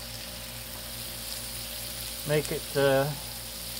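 Onions and green onion sizzle steadily on a Blackstone griddle for red beans and rice, a continuous close hiss under brief spoken remarks.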